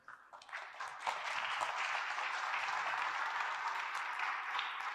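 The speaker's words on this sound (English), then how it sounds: "Please give them another round of applause" Audience applause after a medical-school public talk: dense, sustained clapping from a large crowd, swelling in the first second and holding steady, fairly loud, with no talk over it.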